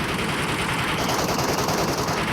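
Rapid automatic gunfire from a video game, a dense continuous burst that runs loud and unbroken throughout with no voices over it.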